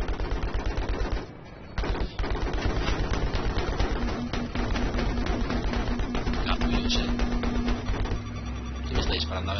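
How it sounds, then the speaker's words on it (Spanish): Continuous heavy gunfire from a Battlefield match, dense rapid automatic shots rattling almost nonstop at close range with distant booms mixed in, and a player speaks Spanish over parts of the din. "¿Qué me está disparando?"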